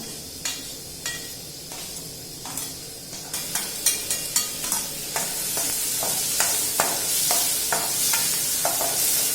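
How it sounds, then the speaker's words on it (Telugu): Onions, green chillies and tomatoes fry in hot oil in a pan, a sizzle that swells and grows loud as a spoon stirs with a steady run of sharp scraping clicks against the metal. "పెట్టుకున్నటువంటి ఆనియన్స్ పచ్చిమిర్చి టమాటా కూడా యాడ్ చేద్దాం"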